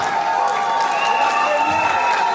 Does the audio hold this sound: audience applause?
yes